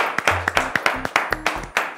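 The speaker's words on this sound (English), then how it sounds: "Show everyone at home a round of applause for our number team" A few people clap for a winning team on a children's educational holiday show, about a dozen separate sharp claps in an uneven rhythm, mixed with short low musical tones.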